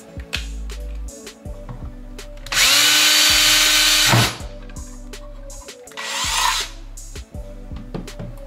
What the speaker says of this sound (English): So I'll need to drill a hole there.